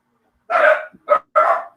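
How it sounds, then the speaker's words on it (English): Several dogs barking indoors in three short, loud bursts with a brief pause between, no talk over them. "I'm trying to mute for my dogs."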